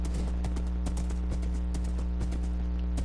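Horse hooves clip-clopping in Minecraft, a steady run of crisp, evenly spaced hoofbeats played alone over a constant low hum.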